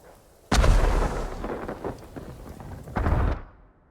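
Fireworks burst during a battle scene in Ghost of Tsushima's Iki Island expansion, with two heavy booming blasts about two and a half seconds apart, each rumbling and crackling as it trails off.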